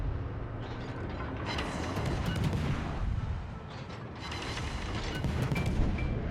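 Guns of the Japanese destroyer Hayate firing in a naval warfare game, heavy rolling salvos and booming reports layered into a continuous loud barrage that surges twice, with no talking.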